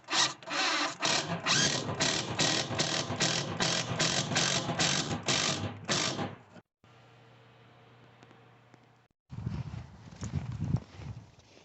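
Construction screws, 3-inch general purpose, being driven to secure a new bathroom vanity to the wall in a mobile home: a fast, steady train of loud rhythmic ratcheting clicks for about six seconds, then a quieter hum and a rougher burst.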